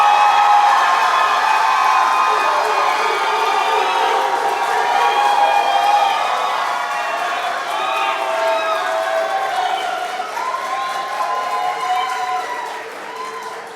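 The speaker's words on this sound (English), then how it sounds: "For CloudWalker, if you're voting, give a round of applause" Large audience at a youth entrepreneurship competition applauding and cheering steadily to vote for a team, a dense continuous wash of clapping with shouts and whistles that holds loud throughout and eases slightly near the end.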